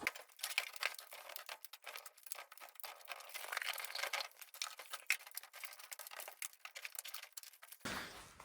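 Sound deadening frozen with dry ice crackling and snapping as it breaks off the floor of an AE86 car, a dense run of close, irregular crisp cracks and crinkles that ends with a brief burst of broader noise.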